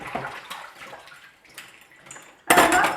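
A pizza cutter being washed by hand in water at the sink with an ENJO cloth: faint clinks and swishes, then a sudden loud splash and run of water near the end.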